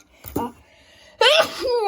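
Two sneezes from a person nearby: a smaller one first, then a loud, full sneeze after a pause, with a voiced trailing sound that follows it.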